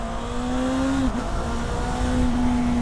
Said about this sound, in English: I love how much power this bike makes